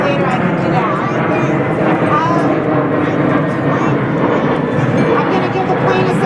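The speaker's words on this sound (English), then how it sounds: "I'm going to give the plane a second to go by." An airplane roars past overhead in a loud, steady wash of engine noise, with voices of a gathered crowd underneath it.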